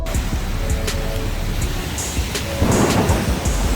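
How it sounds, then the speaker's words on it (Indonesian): Rain falls with thunder rumbling at the Indonesia–Cambodia Friendship Monument in Cambodia, a steady broadband hiss of rain with low rolling thunder that swells louder partway through, heard without talk. "Wow, hari udah mulai hujan."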